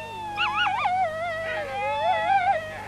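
Sled dogs of the Sirius sled patrol howl in long wavering, rising and falling cries, several voices overlapping close by against a quiet background.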